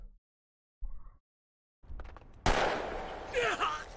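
A single sharp gunshot cracks out in an Attack on Titan scene, sudden and loud after quieter moments, followed by a ringing, noisy tail with a voice over it.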